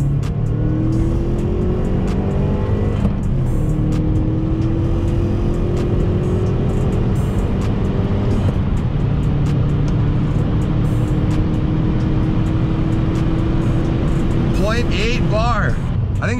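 Beater Subaru WRX with all-wheel drive pulling hard under boost on a winter road, engine tone climbing steadily, dropping at a gear shift and rising again, loud and close inside the car with a voice talking over it.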